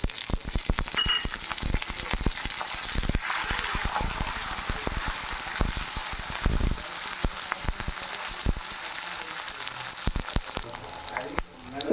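Curry leaves crackling in hot oil for pulihora, a dense patter of pops and sizzle that keeps going throughout at moderate level.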